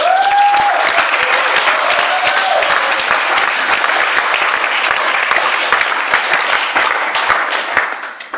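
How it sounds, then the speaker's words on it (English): An audience at a speech event applauds Brenna with steady, dense clapping that fills the room, loud and sustained before tapering off at the end. "I really would love to have a warm applause for Brenna"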